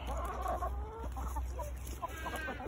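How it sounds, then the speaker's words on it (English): Chickens put into a goat pen to eat ticks off the goats cluck and murmur close by in a steady, busy chatter, with a few louder squawks. "I put the chickens into the goat pen in order to have the chickens eat some of the ticks"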